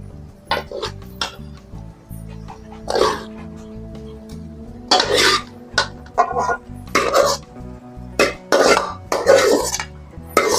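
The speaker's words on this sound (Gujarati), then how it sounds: "હવે નાખીએ બટેટા." Potatoes are tipped into a pan while pakoda batter is prepared in a home kitchen, giving scattered close clinks and scrapes of utensils and dishes in separate bursts against a quiet background.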